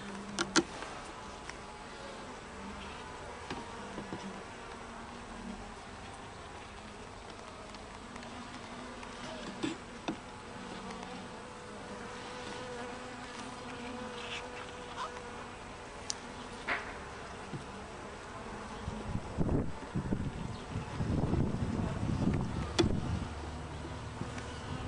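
Carniolan honeybees buzzing at an open hive, a continuous dense drone with scattered louder passes near the listener, swelling in intensity toward the end.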